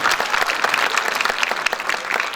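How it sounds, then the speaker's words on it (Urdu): Loud, dense applause from an audience at a comic and serious Urdu poetry mushaira, steady clapping filling the whole stretch with no voices on top. "زوردار تالیاں بجنی چاہیے."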